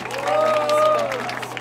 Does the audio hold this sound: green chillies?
no